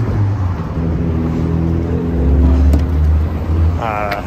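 The engine of an MGB GT V8 race car, just unloaded from its trailer and not yet running right, rumbles steadily at low pitch close by, under talk.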